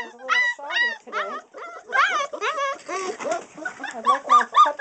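Newfoundland puppies almost six weeks old whimper and yip in a rapid run of high, wavering cries, loud and close, with several overlapping voices.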